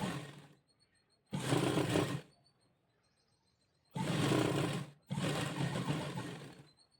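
An electric sewing machine stitching frock fabric pieces together runs in three loud close bursts of rapid whirring, each about a second long, separated by near-silent pauses.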